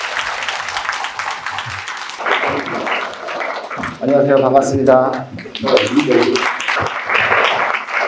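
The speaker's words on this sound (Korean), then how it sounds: "박수로 환영해 주십시오" An audience at a Korean school-admissions seminar for parents applauds to welcome a company representative to the stage, a steady patter of clapping under a man's spoken greetings.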